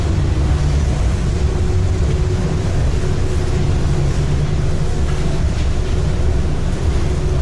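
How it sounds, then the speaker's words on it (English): Steady, loud low engine rumble and hum fill the passenger cabin of the Washington State Ferry Kennewick, a continuous drone with faint background noise throughout and no distinct voices. "This is inside the passenger area on the ferry."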